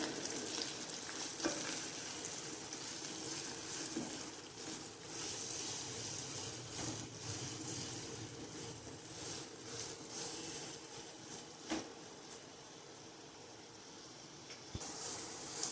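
Chopped onions and green chillies fry in oil in a pan for a street-style dosa wrap, making a steady, soft sizzle with faint stirring scrapes and a few light clicks of a utensil throughout.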